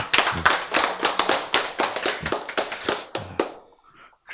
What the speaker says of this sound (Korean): 박수 치고